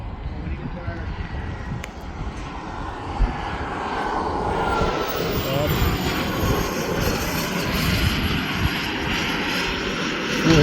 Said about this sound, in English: you can kind of just line the airplane up coming right down those cones on final